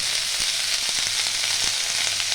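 Vegetables frying with salt, turmeric and dried red chili in a pan for a bottle gourd greens, bori and poppy seed curry, a steady close sizzle broken by a few soft scrapes of stirring.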